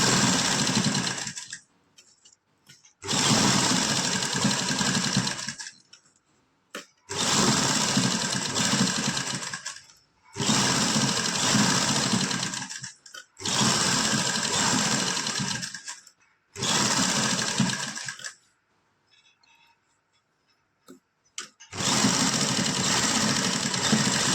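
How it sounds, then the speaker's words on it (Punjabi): A sewing machine stitches lace onto a simple suit in bursts of steady whirring, with about six runs of several seconds each separated by short pauses. It sounds close and loud, with no talking. "ਹੁਣ ਆਪਾਂ ਇਧਰਲੀ ਸਾਈਡ ਸਲਾਈ ਲਗਾ ਲਾਂਗੇ"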